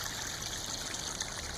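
Running water flowing over limestone rocks outdoors, a steady hiss and babble of a stream, constant and moderately loud with no voices.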